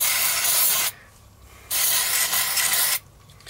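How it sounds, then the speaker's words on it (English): Carb spray hisses from an aerosol can while cleaning the carburettor of a SIP two-stroke generator, in two loud sustained bursts of close spraying separated by a short pause. "Just got to clean inside there with a bit of carb spray and an old toothbrush."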